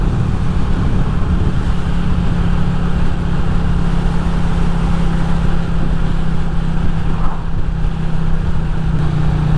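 Steady, continuous engine drone of a Royal Enfield Classic 350 motorcycle at cruising speed while easing off, with a constant low hum and wind rush throughout, no talk.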